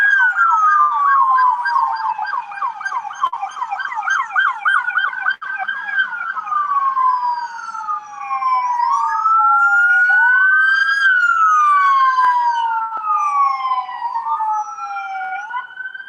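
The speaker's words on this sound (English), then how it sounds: "it is trippy to be standing up next to that many squad cars blaring their sirens coming down at you" Several police squad car sirens blare at once during a Los Angeles protest, overlapping wails and rapid yelps sweeping up and down, loud and close for the whole stretch with no talk.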